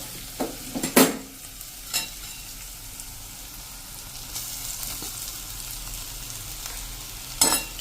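Spiced potato filling for samosas, seasoned with Kashmiri red chili, stirred in a pan, giving a soft steady sizzle broken by a few sharp scrapes and clanks of the spoon against the pan.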